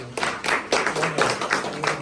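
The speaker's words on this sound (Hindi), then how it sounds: "इनके लिए ढेर सारी तालियां पहले।" A small group claps in uneven bursts, moderately close, the applause rising and falling over a couple of seconds.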